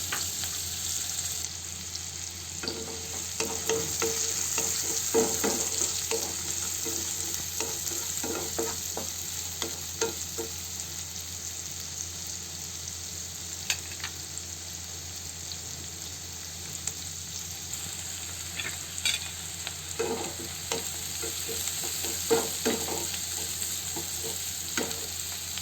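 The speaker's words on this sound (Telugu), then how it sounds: "ఆనియన్స్ ఇంకా పచ్చిమిర్చి ఫ్రై చేసుకుందామండి. గోల్డెన్ కలర్ వచ్చేదాకా ఫ్రై చేసుకోవాలి." Onions and green chillies fry in oil until golden, a steady close sizzle broken by repeated scraping strokes of a spoon in the pan, with no talking.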